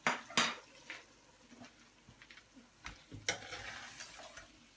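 A spoon stirs spices into a vegetable curry with potatoes and turmeric in a pot, scraping and knocking against the metal in irregular strokes over a faint sizzle, close but quiet.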